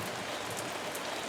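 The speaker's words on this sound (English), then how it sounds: "It's 7 o'clock and the rain has arrived." Steady rain falls on an evening after distant thunder, a dense even hiss of drops without pause, moderately quiet and with no voices.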